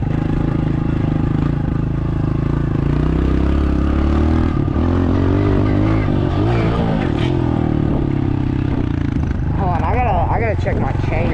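A dirt bike engine runs loud and close while riding, a continuous rough drone with rising and falling revs and mechanical clatter throughout.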